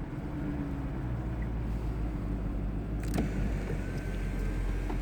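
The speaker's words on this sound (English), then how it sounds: "That's a rev in stealth mode." A 2017 Chevrolet Camaro SS engine revving in stealth mode gives a subdued, steady low rumble throughout, with no talking.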